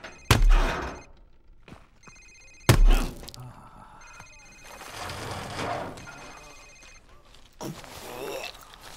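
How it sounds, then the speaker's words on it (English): A cell phone rings during a tense interrogation in Call of Duty: Modern Warfare Remastered, a few short ringing bursts between heavy thumps, with voices and game noise around. "Sir, it's his cell phone."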